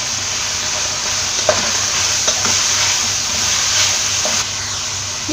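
Ginger garlic paste frying in a pan for Kottayam-style chicken biryani, a loud steady hiss of hot oil with occasional soft stirring scrapes throughout.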